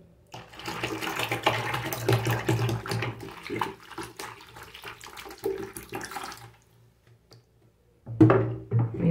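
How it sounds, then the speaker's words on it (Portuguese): The rest of the water pours into a homemade bathroom cleaning mixture in a close, uneven splashing stream that fades out after about six seconds, then resumes loudly briefly near the end. "Vamos colocar o restante da água."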